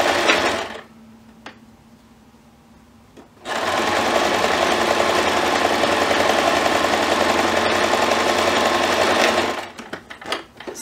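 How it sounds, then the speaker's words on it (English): A home sewing machine stitches fabric tabs with a quarter-inch seam, a steady close-up whirring run of several seconds after a short quiet pause, with brief start-stop clatter at each end for back stitching. "I'm gonna put them in my machine at a quarter of an inch and stitch."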